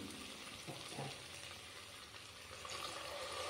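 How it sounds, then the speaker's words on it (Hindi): Water poured into a hot pan of roasted dalia porridge, a steady hissing sizzle and splashing wash, close and fairly quiet, with no talking. "अब इसमें हम डालेंगे पानी।"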